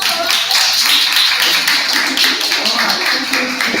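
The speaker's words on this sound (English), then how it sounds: "Let's give applause for Russell" Audience applause for a performer named Russell at a stage talent show, a dense, steady wash of many hands clapping that holds loud throughout.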